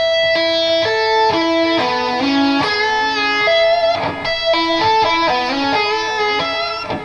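Full electric guitar lick sequence, a fluid run of sustained distorted notes with slides and fast fretted phrases, repeated in two similar passes, played solo and near.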